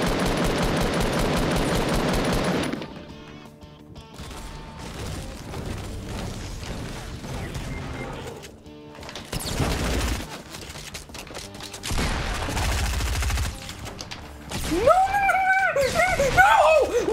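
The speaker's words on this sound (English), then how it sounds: "Someone has a heavy sniper." Rapid bursts of gunfire and heavy sniper shots ring out during a Fortnite match, with a player talking excitedly over loud, choppy firing that comes in uneven bursts.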